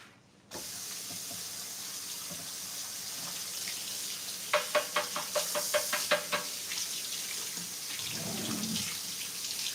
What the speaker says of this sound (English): now I can wash my hands